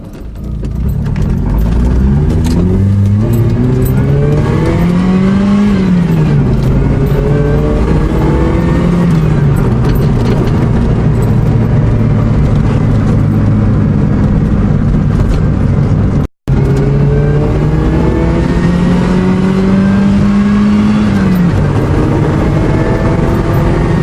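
A supercharged NB-generation Mazda MX-5 accelerates hard through several gears on its first test drive, the engine's loud, close whine climbing in pitch and dropping at each shift, with one brief cutout partway through.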